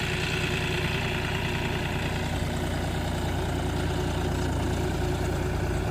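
A John Deere 5050D tractor pulling a 5 tyne cultivator through a field, its diesel engine giving a steady, continuous low rumble close by with no change in load.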